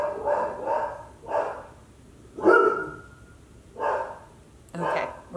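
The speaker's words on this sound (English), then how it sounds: "we're gonna take a quick break because my dogs are going crazy" Several dogs bark in short, separate bursts, about six in all, spaced roughly a second apart at moderate loudness in a quiet indoor room with no talking.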